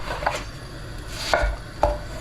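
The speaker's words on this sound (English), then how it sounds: "I'll just finely chop both of these" Knife chopping onion and garlic on a board for a sausage roll filling, a few distinct, fairly close chops spaced about half a second apart against a quiet kitchen background.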